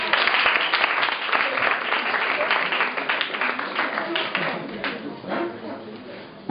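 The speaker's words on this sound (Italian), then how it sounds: "Un bel applauso" A bar crowd at a live magic show claps in a lively burst that gradually thins and fades, with some voices mixed in under the clapping.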